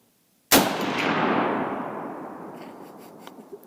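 A single loud gunshot from a Noreen Firearms BN36 Assassin long-range rifle in .300 Win Mag, a sharp crack after brief silence followed by a long, rolling outdoor echo that fades over several seconds.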